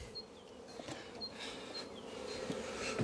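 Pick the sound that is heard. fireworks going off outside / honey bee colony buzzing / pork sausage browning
honey bee colony buzzing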